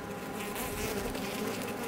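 Calm honey bees buzz around a newly introduced queen, a dense, steady swarm drone close to the microphone, continuous and even for the whole stretch without talk.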